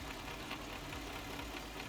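A tractor engine in Farming Simulator 19 rumbles steadily and quietly, a constant low droning hum with no talking.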